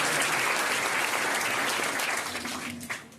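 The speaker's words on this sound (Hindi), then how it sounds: "आप लोग ताली बजा के इनका स्वागत करिए।" Audience applause welcoming guests at an awards ceremony honouring top-scoring UP board students from a coaching centre, steady dense clapping from a crowd that gradually thins and fades toward the end.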